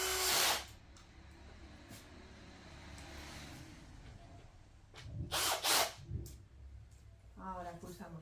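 A power drill drives screws while a wooden crib with metal parts is assembled, short whirring bursts separated by quieter handling noise, fairly close and moderately loud.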